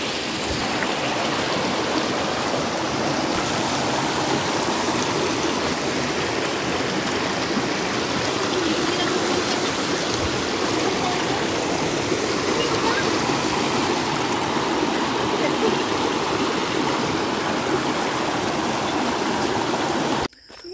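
A stream of water flows steadily near Krimchi temple in Udhampur, a loud, close, unbroken rushing that lasts throughout and cuts off abruptly at the end.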